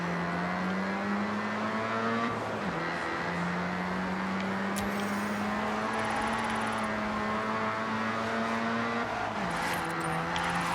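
A rear-wheel drive car drifts in Forza Horizon 6, its engine holding a loud, sustained rev whose pitch slides up and down, with tire squeal and a gear shift or two along the way.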